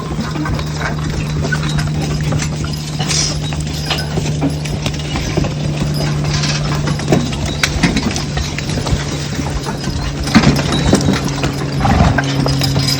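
An old plow horse's hooves clip-clop steadily on hard ground, with a low, constant hum underneath throughout.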